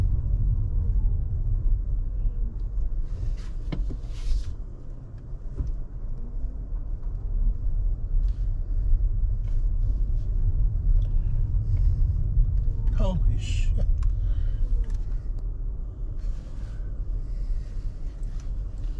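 A car rolls into the parking lot at the Ski Roundtop ski resort with a low, steady interior rumble, while people talk throughout.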